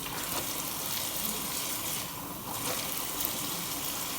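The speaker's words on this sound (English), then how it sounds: "I'm just going to put in water, like with my hands" Water pours steadily into a pot for a stovetop shrimp seafood boil, a continuous close rushing and splashing sound that dips briefly in the middle.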